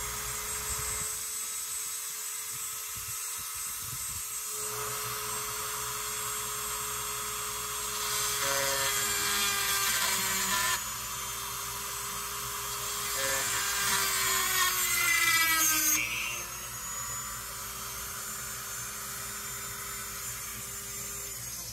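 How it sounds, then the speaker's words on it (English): A Dremel rotary tool with a carbide burr grinds into metal on a Brown & Sharpe bench center, giving a steady high-pitched whine that rises and falls in pitch as the burr bites and eases, close and continuous for about twenty seconds. "I'm going to take this carbide burr and this Dremel, try and deepen that."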